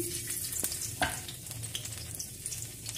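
Finely chopped garlic hitting hot oil in a pan, giving a steady close sizzle and crackle with occasional stirring clicks, no voices.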